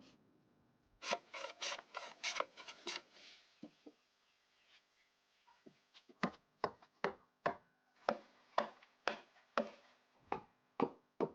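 Sharp wooden knocks and scraping strokes from old hand woodworking tools, no power tools, working wood for a chair, coming in quick bursts, then a pause, then a steady run of evenly spaced strikes, close by.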